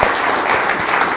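An audience claps steadily, a dense wash of many hands applauding throughout with no pauses.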